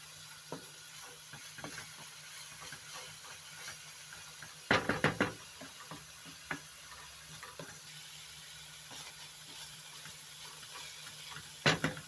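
Meat and onion fry in a pan, a faint steady sizzle broken by a few sharp clusters of scraping and knocking from stirring, close and quiet.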